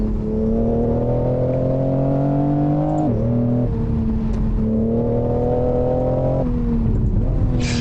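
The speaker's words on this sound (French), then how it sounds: "la pétara de changement de rapport, c'est ce que je viens de remarquer, elle intervient vraiment à un certain régime" BMW M140i engine revving hard through gearshifts in a racing video game, with a loud sustained drone that dips and climbs again at each shift and faint pops near the changes.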